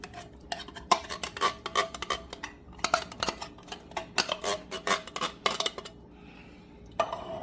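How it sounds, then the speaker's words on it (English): Canned black chili beans in a mild sauce scraped from the can into a pot of bacon, bison and beer chili, a quick series of close metallic clinks and scrapes with no talk. "we are going to add a can of black chili beans that are also pre-seasoned with a mild sauce"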